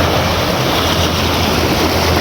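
Strong sea waves and a fast current surge against the shore at a fishing spot, a loud, continuous broadband wash of surf close by with steady low rumble and no voices.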